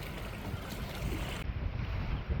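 Floodwater from an overflowing river surges across a village road, making a constant, dense roar of churning waves and rushing water with strong wind buffeting the microphone throughout. No voices are heard.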